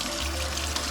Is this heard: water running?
yes